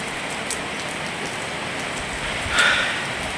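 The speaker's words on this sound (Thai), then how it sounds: "ฝนตกแล้วครับทุกคน" Steady rain falls with a dense, even hiss and scattered drop hits nearby, continuous and fairly loud, with no voices.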